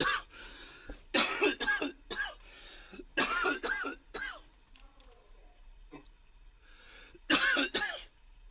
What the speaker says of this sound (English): My mom's pissed because she hears me coughing.